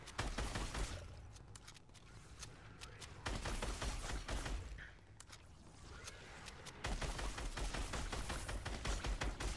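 Dense gunfire in the video game Alan Wake, a continuous rattle of rapid shots with sharp cracks and scraping clatter, sustained and loud throughout with a brief lull midway.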